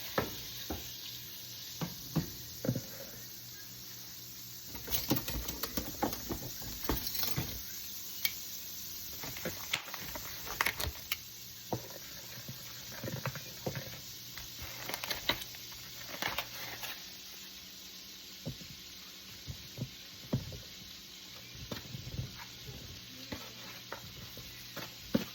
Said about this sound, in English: We're just going to get a good sear.